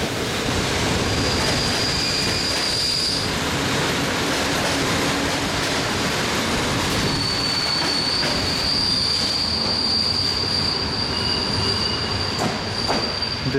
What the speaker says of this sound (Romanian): Trenul de Craiova.